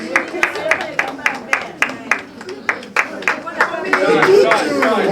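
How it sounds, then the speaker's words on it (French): A small group claps in a steady rhythmic beat that swells into looser applause, with voices murmuring underneath toward the end. "On peut applaudir s'il vous plaît."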